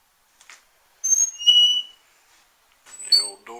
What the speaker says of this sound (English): The old door still squeaks.